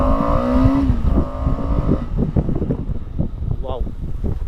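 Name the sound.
KTM Adventure 250 motorcycle accelerating from standstill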